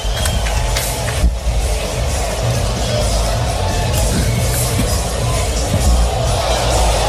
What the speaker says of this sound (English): the crowd kind of getting a little bit loud